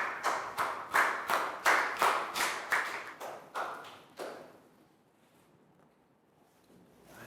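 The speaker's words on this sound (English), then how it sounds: "Big round of applause." Classroom applause in a Year 3 English lesson, a short burst of rhythmic, fairly close hand claps from a small group that slows and fades out after about four seconds, leaving quiet room tone.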